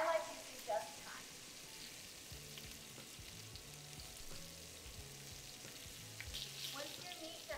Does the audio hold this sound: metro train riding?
no